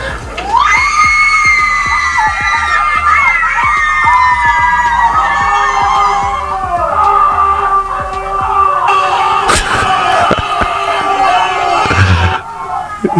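Crowd of people screaming, cheering and whooping in a beer commercial, loud and continuous throughout with high voices and a sharp bang near the end.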